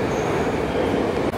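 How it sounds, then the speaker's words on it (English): Steady interior rumble of a newer metro car in motion on the Tashkent subway, constant wheel and track noise throughout, loud and close with no talking. "we just had a bit of a ride on the newer train, which is far more comfortable"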